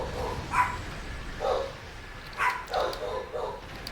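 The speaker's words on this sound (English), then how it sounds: "My dogs are barking." Several dogs bark indoors at moderate distance, sending out five or six separate yips and woofs in an uneven rhythm over a soft background, with no talking.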